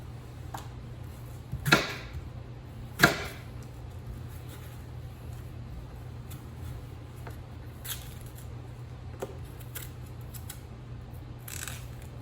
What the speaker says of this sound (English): I'm gonna cut one more onion.